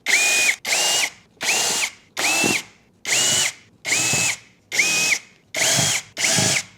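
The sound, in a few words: power screwdriver removing screws from Winia stand fan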